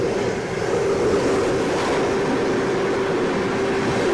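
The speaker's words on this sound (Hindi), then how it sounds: "वो देखिए गोरखपुर पनवेल एक्सप्रेस।" Gorakhpur Panvel Express train at Rani Kamlapati station, a steady loud rumble and rushing roar of the passing train with a faint sustained hum, continuous and close, no speech.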